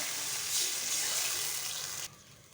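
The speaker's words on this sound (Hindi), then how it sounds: "अब इसमें डाल देते हैं पानी।" Water pouring steadily into a cooking pot for rice, a close, hissing gush that runs for about two seconds and then cuts off abruptly, leaving a faint background.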